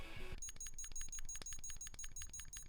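A small handheld Digimon Mini virtual pet toy emits rapid, shrill, repeating beeps in a steady pulsing rhythm, heard up close after a brief muffled rustle.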